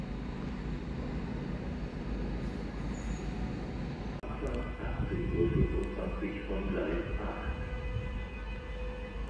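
A regional train rumbles steadily at a moderate distance in Bamberg, its low mechanical drone shifting as it moves off, with faint talk in the background.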